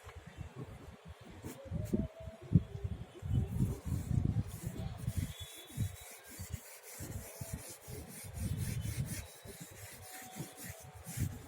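A brush spreads polishing chemical across a granite surface, giving steady, close rubbing and scrubbing strokes in irregular bursts, with a brief pause partway through.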